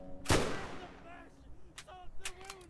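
A rocket launcher fires in Borderlands, one loud sharp blast near the start trailing off, followed by fainter scattered pops and tonal game effects.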